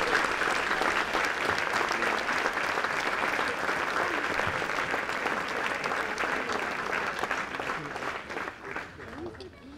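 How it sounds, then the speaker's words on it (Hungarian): Sustained applause from a crowd at an outdoor summer-evening wind band concert, loud and steady, then gradually thinning and fading toward the end. "egy nagy tapsal igazgatóasszonynak is köszönjük"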